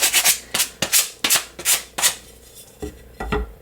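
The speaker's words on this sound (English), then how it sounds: "I'm just going to sand off the little chipped wood." Chipped cut wood pieces being sanded by hand in a series of close, rhythmic scraping strokes, about nine brisk rubs with short gaps, loud and alone, ending in a few softer scuffs.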